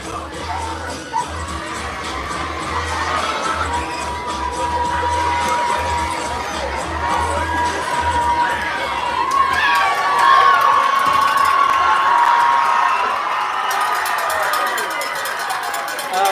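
Crowd at a high school football game between Hilltop and Montgomery roaring and cheering, a broad sustained swell of voices rising midway and holding, with a commentator talking over it.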